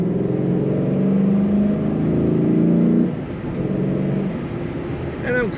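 Engine of a 2007 Ford Mustang Shelby GT drones steadily as the car accelerates, heard from inside with rising then settling tone, and a voice talks over it throughout.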